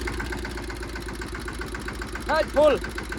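A mini tractor engine rumbles steadily and low in a field at full throttle, with a couple of brief rising, voice-like whines near the end.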